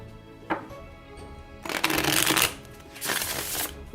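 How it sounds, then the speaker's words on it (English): Tarot of the Secret Forest deck being shuffled by hand: a single snap, then two bursts of riffling cards, the first longer and louder, the second shorter, close up with no talking. "so I would give them a shuffle."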